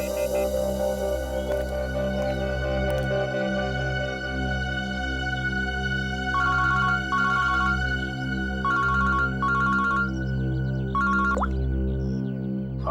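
A phone ringtone sounds for a kidnapper's incoming call, a repeating electronic melody in short bursts over a steady droning background score, fairly loud and close throughout.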